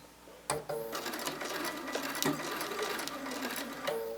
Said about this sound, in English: drop my needle back in, sew forward a few stitches